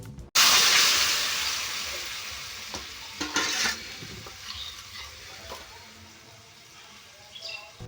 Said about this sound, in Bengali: এবার সেদ্ধ করে রাখা সবজিটা ঢেলে দিতে হবে কড়াইয়ের মধ্যে